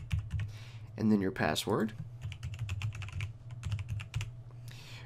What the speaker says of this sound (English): go ahead and type in your ID number